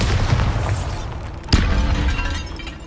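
A Bombarda blast spell in the Hogwarts Legacy video game, set in a crypt with an altar and bones: a single sharp explosive crack mid-clip over a dense, rumbling game soundscape.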